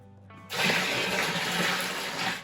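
Hot water pours into a brewing vessel for a homebrew Bavarian wheat hefeweizen, a loud, steady rushing splash that starts abruptly and continues without a break.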